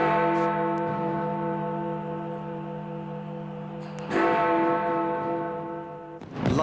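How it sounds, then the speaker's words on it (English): Church bells in the United Kingdom ring out for the new millennium, a sustained resonant tone with a fresh strike partway through and another near the end, heard alone. "bells have been ringing in churches across the United Kingdom"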